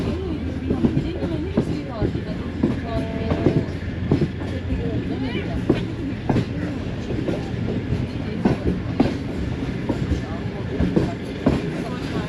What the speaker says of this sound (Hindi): 2 मिनट स्टॉप करने के बाद चकलाला रेलवे स्टेशन से मूव हो गई है